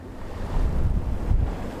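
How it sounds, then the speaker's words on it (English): Small ocean waves wash gently onshore while wind buffets the microphone in a brief, steady, rumbling stretch outdoors, with no voices. "to perhaps the little waves in the background"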